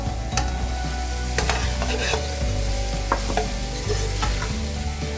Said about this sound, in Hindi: अब इसमें हम मटर ऐड करेंगे, गाजर ऐड करेंगे